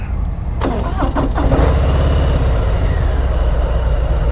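A 2018 Harley-Davidson Heritage Classic motorcycle starts: a brief cranking stutter catches into a loud, steady, deep idle rumble close by.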